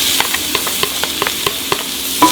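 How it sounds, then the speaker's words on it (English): Garlic sautéing in a hot pan for ramen fried rice, a steady close sizzle broken by regular light scrapes and taps of a utensil stirring, with no talking. "I'm gonna saute the garlic for a second"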